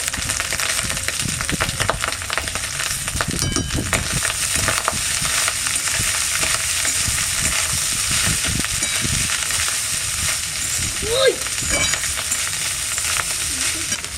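Rice being stirred into a hot frying pan for fried rice, with a loud, continuous sizzle and hiss up close and scraping stirs running throughout.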